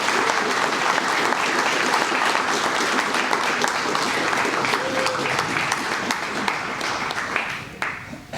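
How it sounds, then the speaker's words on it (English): Sustained audience applause fills a Scout district awards ceremony, a dense steady clapping from a crowd that holds for several seconds and then thins out toward the end. "Let's give these Scouters a round of applause."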